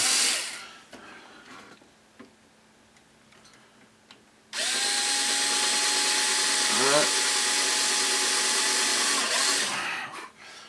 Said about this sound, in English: drill right into that brace